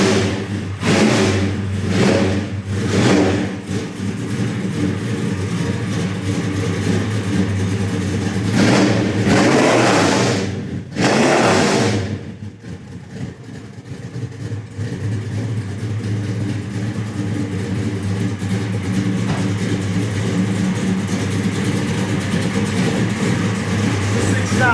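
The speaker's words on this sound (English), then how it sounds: "Blueprint engines, big block in there, 540 cubic inch, damn near 700 horsepower." A 1970 Chevelle with a 540 cubic inch big-block engine of nearly 700 horsepower, loud and close, blipped through several sharp revs before settling into a deep, lumpy idle.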